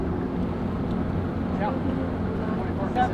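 A steady motor drones continuously with wind rumbling against the microphone, close and even in level.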